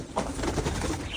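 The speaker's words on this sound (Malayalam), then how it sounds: "പിന്നെ ഇവിടെ കുറച്ച് പക്ഷികളൊക്കെ ഉണ്ട്" Caged lovebirds and parrots give a short burst of soft cooing and calling, close by and moderately loud, lasting only a moment.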